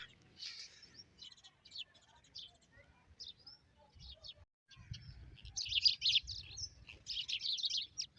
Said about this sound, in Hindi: चिड़ियाँ खेल रही हैं सुबह सुबह।